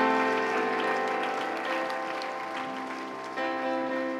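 Church congregation applauding the Lord during a French-language service, steady applause under sustained keyboard or organ chords that run throughout.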